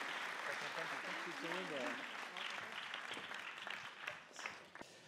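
A crowd applauds steadily and warmly at a closing ceremony, with a voice speaking briefly over the clapping at the start.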